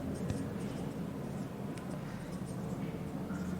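Chalk or marker writes on a board during a Bengali math lesson, giving a steady scratchy scraping with a few sharper taps. A teacher talks quietly underneath.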